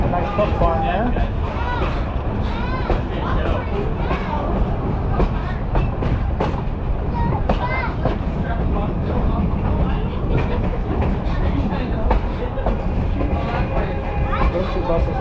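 Steady rumbling of the Oregon Coast Scenic Railway train riding along the rails between Garibaldi and Rockaway Beach, a continuous dense rolling noise with faint clattering throughout.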